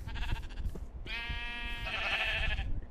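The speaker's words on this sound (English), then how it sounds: "There's some sheeps in here." Sheep bleating in the Minecraft video game, several wavering bleats in quick succession, near and clear with a little background noise.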